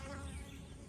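Bees buzz around their hive, a steady, close, low droning hum with no talk.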